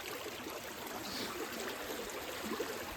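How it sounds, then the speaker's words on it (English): Flash floodwater rushes through a yard at a family lodge in Sullivan, a steady, dense wash of turbulent flow that stays loud and continuous, with no voices. "There's a lot of water coming through."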